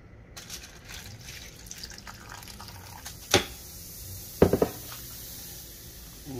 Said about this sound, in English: we're gonna add some hot water